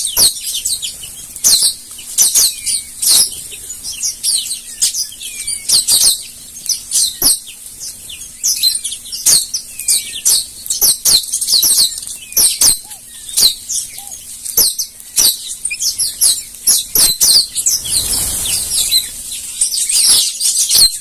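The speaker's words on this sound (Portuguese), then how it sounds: "o passarinho tá cantando." A small coscobel bird sings close by in quick, repeated chirps and trills, separated by short pauses, with little else around.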